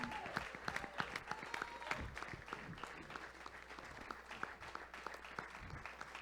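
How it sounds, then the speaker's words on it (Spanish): A church congregation claps during a Spanish-language worship service, a brisk burst of many hands with sharp individual claps standing out, steady and fairly close throughout. "¿Cuántos pueden darle un fuerte aplauso al Señor y decirle gracias, Señor?"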